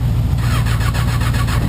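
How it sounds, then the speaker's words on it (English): A Honda motorcycle engine runs right after a cold start, a loud, close, steady low rumble with a faint irregular pulsing, no speech. "See if the bike will start up."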